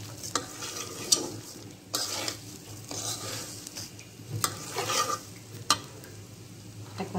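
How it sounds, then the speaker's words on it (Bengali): One kilogram of fragrant gulab rice fries in a pan for beef tehari, a spatula scraping and tossing it in repeated strokes over a soft, continuous sizzle. "এখন চালটাকে আমি ভালোভাবে ভেজে নেব।"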